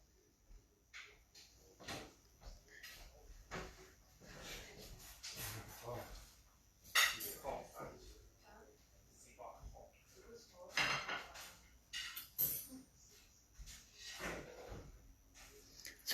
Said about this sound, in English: they've just had their dinner and they're washing up